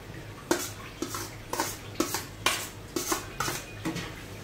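Potatoes being sautéed in a pan, a spatula knocking and scraping against the metal in a steady rhythm of about two strokes per second, close but fairly quiet, with no voices.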